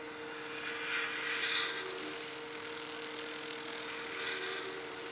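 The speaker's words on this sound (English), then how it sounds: "now that we're bringing this blank down, we've cut through that outer layer" A carbide tool cuts an acrylic pen blank spinning on a lathe, making a steady whirring hum overlaid with hissing, scraping bursts of cutting, close and moderately loud with no talk.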